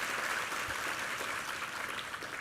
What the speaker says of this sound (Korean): 우리 챔버 팀에게 한번 격려의 박수 드리겠습니다